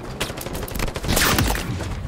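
Rapid, loud machine gun fire rattles in a dense unbroken burst in the Halo video game, a Spartan's weapon firing up close with crackling impacts throughout.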